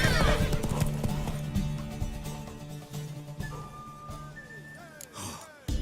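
A horse in The Witcher 3 clip-clops and whinnies, hooves thudding near at first, then a rising neigh and snorts toward the end, with some game voices underneath.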